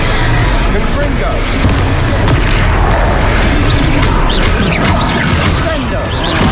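A Confringo blasting spell explodes during Hogwarts Legacy combat, a loud booming roar layered in dense continuous game noise with crashing impacts throughout, close and heavy from start to finish.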